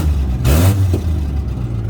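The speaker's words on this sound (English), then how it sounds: "There she is, running. Very loud because of the lack of exhaust." A 1998 Suzuki Vitara engine runs loud with no exhaust fitted, a rough, throaty idle close by with one quick rev swelling up near the start before settling back to a steady drone.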